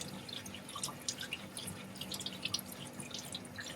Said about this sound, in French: on fait couler l'eau légèrement tiède